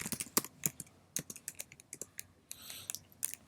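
Rapid, uneven keystrokes clatter on a computer keyboard while code is typed, close and crisp, with short bursts and a brief run of faster strokes near the end.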